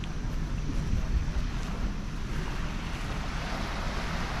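Steady surf rolls onto Red Beach at Guadalcanal in the Solomon Islands, a continuous loud wash of waves mixed with wind buffeting the microphone, with no voices.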